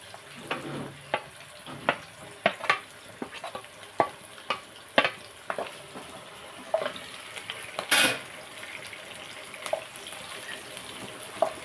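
Raw prawns fry with curry leaves in a hot pan, giving a steady sizzle broken by frequent sharp crackles and pops and a louder burst of spatter near the middle, with no talking.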